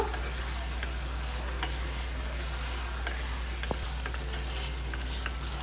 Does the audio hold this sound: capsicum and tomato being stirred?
yes